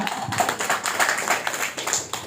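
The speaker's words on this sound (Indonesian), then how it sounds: "Tepuk tangan Pak Kecik kita" A gathering at a silaturahim ceremony in Banda Aceh claps for an honoured guest, a modest round of hand clapping heard at a distance, fairly quiet and uneven throughout.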